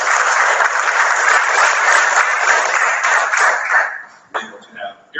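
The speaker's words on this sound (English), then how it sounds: "let's all give these guys a round of applause for helping us build this partnership" People at a Little Rock startup panel give a round of applause for their partners. Loud, steady clapping runs about four seconds, then fades as a voice starts speaking.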